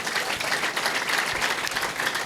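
A church congregation claps and applauds for a pastor in a steady, dense burst of many hands that carries through the whole moment without pause.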